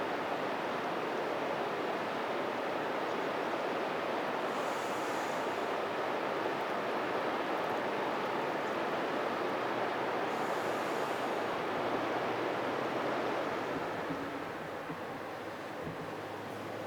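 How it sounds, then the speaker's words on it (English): A flowing river outdoors, a steady broadband rush of water that continues unbroken and close, with no voices. "Just listening to that river."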